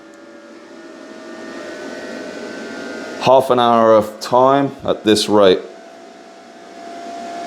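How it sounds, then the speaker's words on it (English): Portable power station cooling fans drone in a steady, even hum with a faint tonal whine, ramping up under about 1.65 kilowatts of load, while a person speaks briefly over it. "So you can really hear the fans ramping up now."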